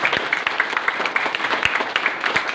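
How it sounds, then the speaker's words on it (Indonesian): Steady applause from a church congregation at a Christmas baptism and communion service, a continuous patter of many hands clapping at moderate volume with a few sharper claps standing out. "Tepuk tangan lagi sama dia."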